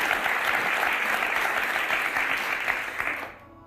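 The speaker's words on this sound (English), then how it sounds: "Look at me. I'm getting applause." Studio audience applause at a talk show, a dense, even wash of clapping that holds steady, then fades out quickly at the end.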